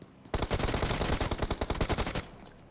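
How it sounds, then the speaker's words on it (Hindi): Automatic gunfire in PUBG Mobile, a single rapid burst of about twenty evenly spaced loud shots lasting nearly two seconds, close and alone without talk. "इसको यहाँ पे मैं प्री फायर मारने की ट्राई करता हूँ"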